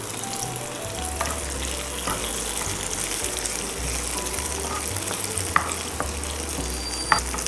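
Onions, curry leaves and round dried chilies frying in a pan for Chettinad chicken, a steady close sizzle with occasional stirring scrapes throughout, no talking.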